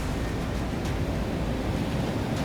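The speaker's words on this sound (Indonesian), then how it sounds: "ini bisa dilihat itu ombaknya sangat besar kalau tiap lagi pasang gini" Large surf at high tide breaks near a coastal guard post, a dense continuous roar of ocean waves mixed with wind buffeting the microphone.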